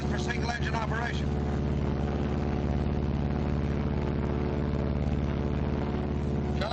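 A World War II B-26 bomber cruising at about 155 on a single engine, a steady loud droning hum with strong low harmonics throughout, with a voice speaking over it near the start.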